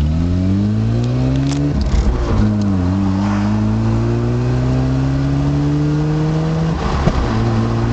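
A Mazda RX-7 convertible pulls hard with a smooth, steady engine drone that climbs through gears, with brief dips at the shifts, close and loud throughout.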